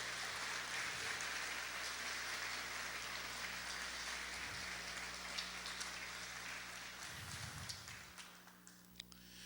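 A church congregation applauds during a sermon, a soft, dense patter of clapping that runs steadily throughout and thins slightly toward the end, heard from a distance.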